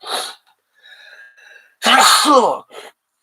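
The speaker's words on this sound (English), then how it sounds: "why do I keep sneezing when I come in here?" A single human sneeze indoors, a sharp sudden burst preceded by a short breathy intake and followed by a brief trailing exhale, fairly close and loud against quiet.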